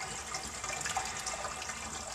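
Water drains steadily from a Jacuzzi Elite bathtub, a faint continuous rushing and gurgling hiss with no voices.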